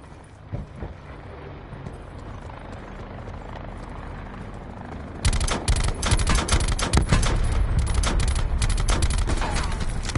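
A helicopter's rotor thrum drones throughout, then bursts of rapid gunfire erupt and keep crackling loudly over it in a game-like battle scene.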